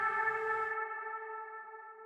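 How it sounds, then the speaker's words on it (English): Synthesized strings from the FL Studio Flex plugin hold a sustained sliding chord drenched in heavy reverb, the tone ringing on cleanly and fading slowly after a brief busier onset. "it's a string. It's like a strings like from FL Studios like Flex plugin, strings with a slide and just hella reverb"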